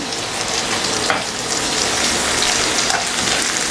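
Curry leaves and chilli powder sizzle in a frying pan, a loud, steady crackling hiss with dense spitting pops, close up and continuous with no talking.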